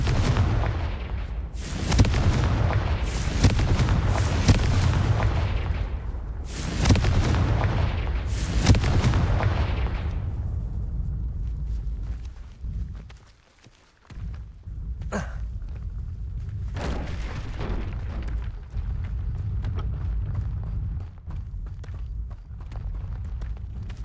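Confringo explosion spell cast in a Harry Potter video game: a run of loud, booming blasts with rumbling tails, packed close together early on, then a few sparser bursts after a brief lull.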